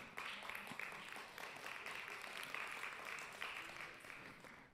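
Scattered faint applause from a small church congregation, a thin steady patter of claps at low level without talk.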